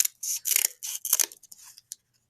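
Scissors snipping through cardboard for a simple automaton frame, a run of close, crisp cuts in quick bursts that thin out into a couple of final snips, with no talking.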